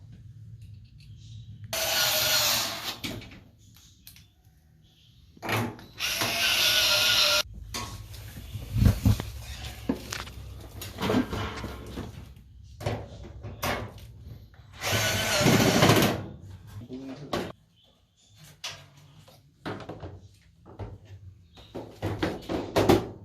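A power drill drives Phillips screws into a Whirlpool Duet washer during reassembly, with several loud whirring bursts of a few seconds each and short pauses between them, close up.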